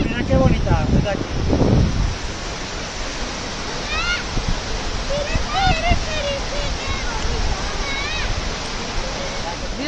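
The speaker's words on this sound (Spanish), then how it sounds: "¿Te ha gustado a ti la cascada?" Waterfall near Broto (Sorrosal) in the Spanish Pyrenees, a steady loud rush of falling water filling the scene, with people, including a child, talking over it.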